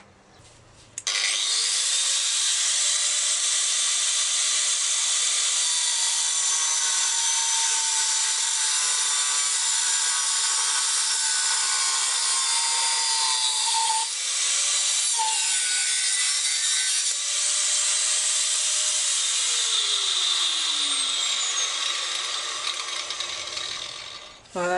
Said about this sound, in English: grab the grinder, change the disc, so I've got a cutting wheel, and cut the end off